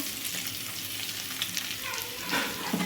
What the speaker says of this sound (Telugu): ఇప్పుడైతే ఉల్లిపాయ ముక్కలు అయితే వేసుకోవాలండి